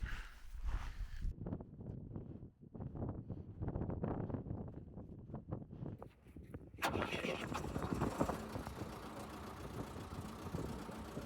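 A van's still-warm diesel engine cranks and catches without glow-plug preheating, then settles into a rough running rumble, heard close with wind buffeting the microphone and a voice briefly over it.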